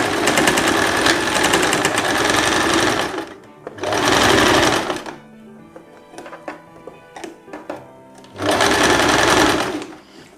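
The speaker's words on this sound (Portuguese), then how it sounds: "faz uma costura de reforço, que é para ele depois não estourar" A domestic sewing machine runs a reinforcement seam on a dress, loud and close in three sustained bursts of rapid stitching, with quieter handling clicks and knocks in the pauses between.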